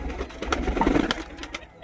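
Pigeons on a rooftop as they are let out one by one, soft close cooing and brief wing and body rustles over a couple of seconds, no speech.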